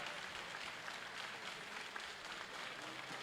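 Crowd applause at a world classic powerlifting championship, men's open 120 kg class, a steady broadband clatter of clapping held at an even level throughout, fairly distant, with no clear voices over it.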